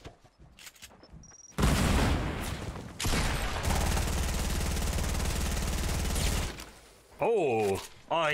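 Heavy gunfire bursts in a video game, long sustained loud blasts broken by short gaps, with a voice talking briefly between them.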